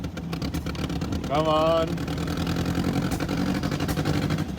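An abandoned dune buggy's engine runs rough and uneven, missing on one of its four cylinders, a lumpy close-up drone with a brief rev midway while someone speaks over it.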